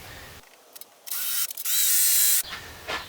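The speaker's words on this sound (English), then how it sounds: "I've got this countersink bit, and I'm going to go so I can go directly from one side into another board with a screw" A countersink bit drills into wooden coffin boards in two close bursts of high whirring, the second longer and steadier, with brief handling sounds between.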